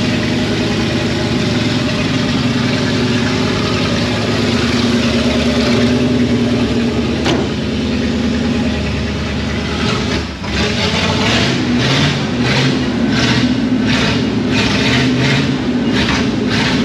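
An old Ford-era vehicle engine, just given a fresh battery and fuel poured into the carburetor, runs at a steady loud idle, close by, with a rough pulsing rhythm growing more pronounced toward the end and no voices.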